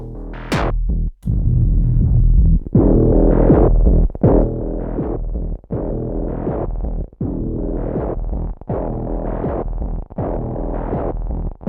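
A throbbing synthesizer pattern with filtered, pulsing tones washed in reverb, repeating in steady bursts at a loud level.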